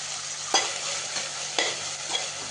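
Ginger garlic paste with handfuls of coriander and mint fries for a chicken biryani, a steady close sizzle punctuated by two or three sharp spatula knocks against the pan.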